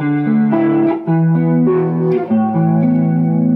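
A clean electric guitar with chorus and effects plays chords with an added ninth, a few ringing strums changing shape in steady succession, bright and close.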